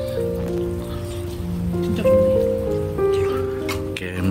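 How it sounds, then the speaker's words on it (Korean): Rain falls steadily in a continuous patter and hiss on a rainy day at an outdoor spot during a meal, with a sustained droning tonal hum layered over it. "아 비가 오니까 소리가 듣기 좋네 그치?"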